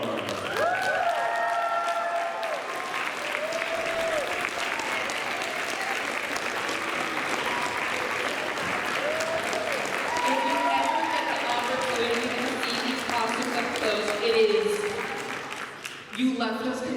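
A convention crowd applauds steadily for the Best in Show cosplay contest winners, dense sustained clapping with cheers and voices mixed in, fading near the end.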